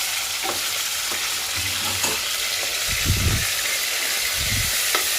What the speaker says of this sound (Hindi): डाल के अब इसको अच्छी तरह से भून लीजिए।